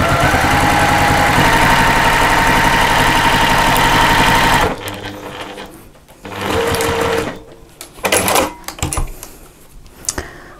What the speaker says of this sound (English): We're going to stitch 1/8 of an inch along there.